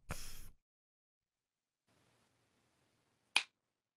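Two crisp finger snaps during a hypnosis session, one at the start and one near the end, separated by quiet; sharp, close and isolated.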